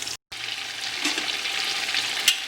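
Goat mutton drops into frying masala in a pan for Bengali kosha mangsho, setting off a steady, close hiss and sizzle with occasional wet crackles and a brief clatter.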